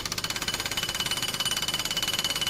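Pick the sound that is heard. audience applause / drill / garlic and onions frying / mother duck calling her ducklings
drill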